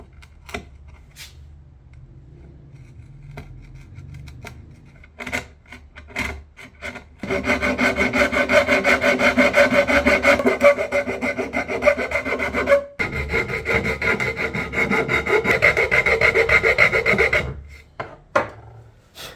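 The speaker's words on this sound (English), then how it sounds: "eventually I straightened with a file" A hand file rasps over wooden end grain, a few scattered scrapes and knocks first, then a long run of rhythmic back-and-forth strokes with a short pause midway, close and alone.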